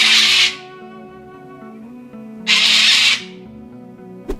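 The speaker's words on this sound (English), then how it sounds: "they have one of the loudest screams in Australian wildlife, and you can hear their scream up to a mile away." A sulphur-crested cockatoo gives two loud, harsh, raspy screams about two seconds apart over soft background music.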